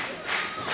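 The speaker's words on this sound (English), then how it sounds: "Listen to that crowd." A crowd at a JWA pro wrestling match cheers and roars loudly, a dense, continuous swell of many voices that rises briefly in the middle of the short burst.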